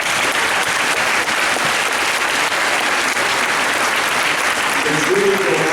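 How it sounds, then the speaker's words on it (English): Steady, loud applause from a crowd at a high school National Signing Day event, filling the whole stretch with dense clapping and rising slightly at the end. "So if we could have a round of applause for the teachers"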